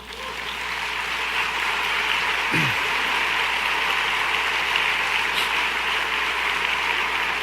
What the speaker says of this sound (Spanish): ¿No le dan un aplauso al Señor?